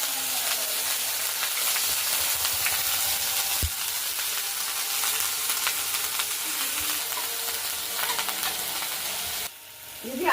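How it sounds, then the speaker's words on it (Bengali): Onions fry in very hot oil for a doi katla fish curry: a loud, continuous close-up sizzle that holds steady, then drops off sharply just before the end. "পেঁয়াজটা ভালো করে কষিয়ে নিচ্ছি।"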